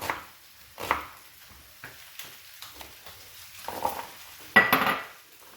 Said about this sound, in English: And just cut up the onions.